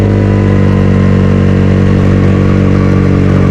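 Motorcycle fitted with an aftermarket ARM exhaust, engine running loud and close with a steady, throaty drone and slight rises in revs, with no voices over it.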